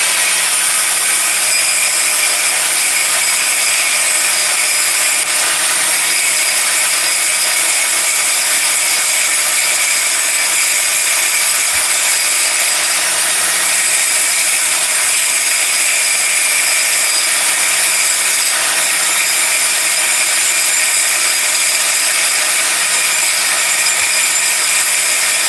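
Angle grinder working steady on custom exhaust brackets, a continuous loud bright whine with a faint low hum, unbroken for the whole stretch.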